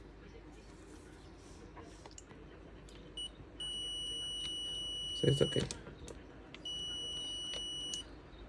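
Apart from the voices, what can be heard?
multimeter continuity test beep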